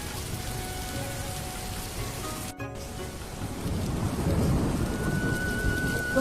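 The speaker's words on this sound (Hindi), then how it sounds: "एक जोरदार आंधी के साथ बारिश होने लगी" Heavy rain pours steadily with low rumbling thunder, the downpour swelling louder in the second half.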